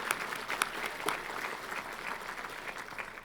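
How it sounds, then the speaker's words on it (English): A business luncheon crowd applauds its sponsors with a steady spread of clapping, moderately distant, with a few sharper individual claps standing out. "Let's give them all a round of applause,"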